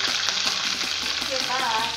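Curry leaves fry in hot oil, giving a dense, steady, close crackling sizzle for a short stretch with faint stirring taps underneath and no talking.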